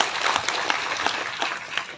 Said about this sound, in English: A round of applause for Jacinta ma'am.